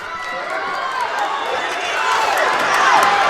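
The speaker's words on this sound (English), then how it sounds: "Crowd really getting into this one." A crowd cheers and roars at a high school senior night wrestling match, the noise swelling louder toward the end, loud and close with a dense mix of voices.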